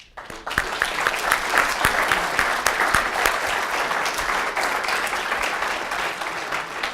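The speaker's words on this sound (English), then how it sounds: "let's give a round of applause" A crowd claps steadily, a dense, sustained wave of applause that starts abruptly and continues without pause.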